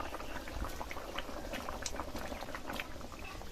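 Thin fish curry broth with pumpkin and potato bubbling as it reduces, a soft continuous burble with small pops and patter, quiet and close, no talking.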